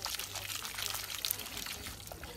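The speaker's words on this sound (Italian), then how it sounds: "se vi sembra ancora asciutta aggiungiamo un pochettino del nostro brodo caldo dell'acqua" Hot pasta cooking water poured into spaghetti carbonara, a soft steady trickle faintly heard close by under a quiet background.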